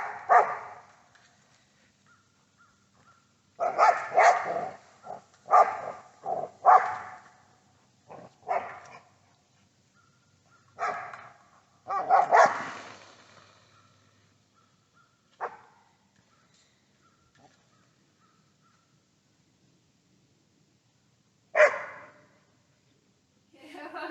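A dog barks in irregular clusters of sharp, mid-distance woofs separated by quiet gaps, with a few isolated barks trailing later, heard alone without talk.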